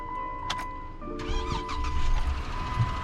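A Jeep with a dead battery starts after a jump: a brief crank, then the engine catches at about a second in and settles into a steady, close rumble that continues to the end.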